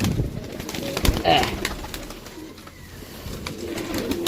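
Pigeons coo in low, soft, rolling calls near and far, mixed with rustling and occasional wing movement, while someone talks briefly over them.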